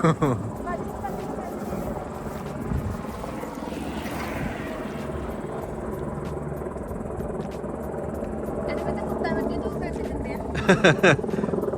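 A steady low mechanical drone of an unseen helicopter overhead in Wengen, Switzerland, continues throughout, with a voice talking over it and a few short clicks near the end.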